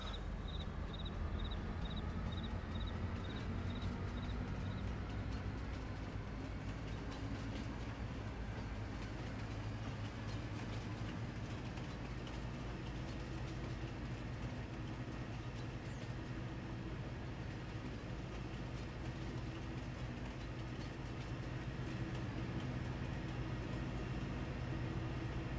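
A train rumbles along continuously in Farming Simulator 22, a steady low mechanical drone with faint clattering and a brief repeated beeping early on, no talking.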